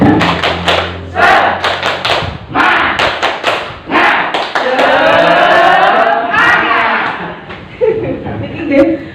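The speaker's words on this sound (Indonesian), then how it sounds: "Tepuk semangat." An audience at a workshop performs a rhythmic group clapping chant, repeated bursts of claps in a set pattern with shouted voices and a brief chuckle, fairly close and loud.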